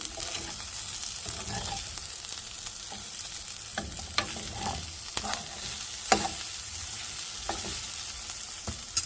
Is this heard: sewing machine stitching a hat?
no